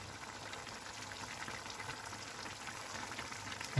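Vegetable soup boiling in a pot, a soft continuous bubbling and simmering hiss at low volume, with no voices.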